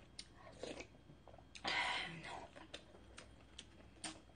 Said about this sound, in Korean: 밥은 일단 먹어보고.